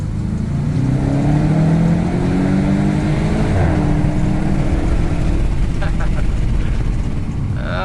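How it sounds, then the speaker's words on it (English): A 2022 VW Golf 8 GTI accelerates hard, its exhaust and engine droning loudly from inside the cabin with a steady rising roar. "So I'll press it as soon as we get there, just to hear that exhaust sound quickly."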